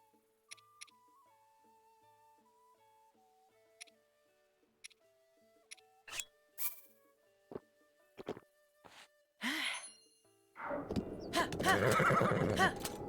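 A horse in the video game Breath of the Wild gives a sharp neigh and snorts near a desert stable, heard among soft game chimes and tones, followed by a louder rough whinny at the end.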